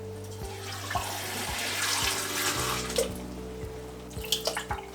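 Black and white film developer poured into a measuring container, a steady liquid trickle and splash running throughout, close and moderately loud, with a few small clinks near the end.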